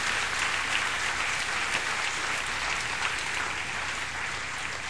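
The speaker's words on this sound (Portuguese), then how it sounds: "Pode aplaudir o Senhor?" A church congregation applauds, a dense, even burst of many hands clapping at moderate volume that fills the space steadily, with no speech over it.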